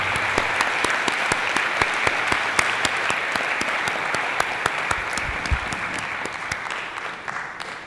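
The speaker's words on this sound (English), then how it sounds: "Let's give all our presenters a round of applause" Audience applause for essay contest presenters: a steady round of clapping from a moderate crowd in a hall, many distinct claps in a continuous patter, tapering slightly toward the end.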